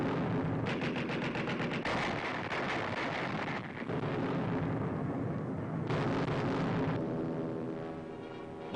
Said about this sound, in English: Pom-poms, anti-aircraft guns blaze into action.